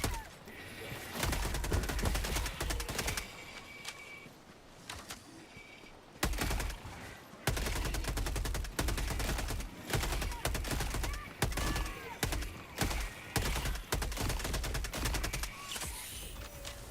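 Dense video-game gunfire keeps up rapid, loud bursts of shots and sustained automatic fire against a busy battle backdrop, with brief lulls between volleys, in a mech shooter.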